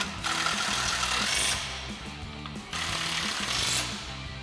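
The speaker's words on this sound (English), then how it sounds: "Then we'll tighten those down again with our 13 millimeter socket." A 13 mm socket tightens the steering stabilizer bolts on a 2014-2021 RAM 2500 with a Mammoth dual stabilizer kit, giving two loud, close bursts of rattling, hammering tool noise split by a short, quieter pause.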